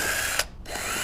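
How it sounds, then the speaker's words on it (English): A power drill boring a pilot hole through the seat frame of a Honda Ruckus scooter, a steady close whine running throughout with a brief dip in the middle, no talking. "get that centered up and drill a pilot hole"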